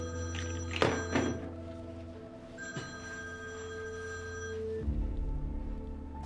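A telephone bell rings steadily in a quiet office setting, a sustained electronic tone with harmonics holding for several seconds, preceded by a couple of soft thumps and followed by a low rumble at the end.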